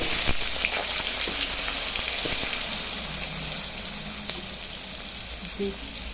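Potatoes fry in a pan with spices, dried red chilli, cumin, salt and turmeric for a fish curry, giving a steady, loud, broadband sizzle that fades slightly over time, with occasional faint clinks.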